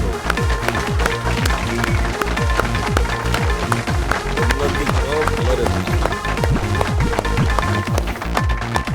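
A seated audience at a quiz show breaks into loud, sustained clapping, dense and steady for the whole stretch.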